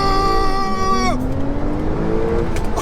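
A Porsche 911 Turbo S, rated at 580 bhp, launches hard in Sport Plus mode. The engine is held high, then surges with a loud, rising roar and a quick gear change before pulling away strongly.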